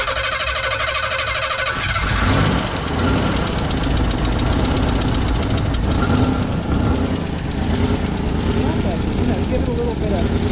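A cold engine is cranked and coaxed to run, a loud rough mechanical clatter rising from about two seconds in and churning steadily near the microphone to the end.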